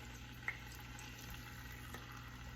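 Chicken breasts fry in regular oil in a pan, cut side down, giving a faint continuous sizzle with a soft hum underneath and an occasional small pop, quiet and steady.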